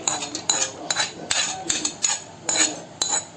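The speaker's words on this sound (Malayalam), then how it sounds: "അത് കഴിഞ്ഞ് വറുത്ത തേങ്ങ കൂടി ഇതിനകത്ത് മിക്സ് ചെയ്ത് വെച്ചേക്കുക." A spoon clinks and scrapes against a bowl while unniyappam batter is stirred together with ghee-roasted coconut pieces, giving a dozen or so sharp, irregular knocks close by.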